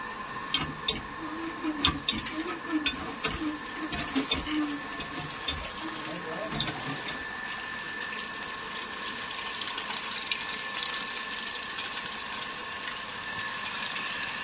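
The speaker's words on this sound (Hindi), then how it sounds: "देख सकते हैं मोटर हमारा चालू हो चुका है और प्रेशर भी आप देख सकते हैं" An electric water motor fitted to a hand pump runs while pumping water, giving a steady mechanical hum with a splashing, flowing wash over it and a few sharper clanks in the first seconds.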